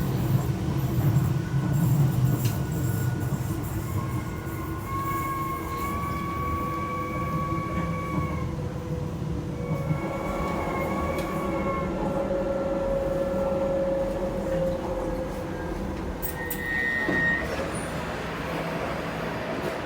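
Inside a moving London light-rail train near Deptford Bridge: steady low rumble of the carriage with faint tonal whines rising and falling as it runs, moderately loud and continuous, no talk.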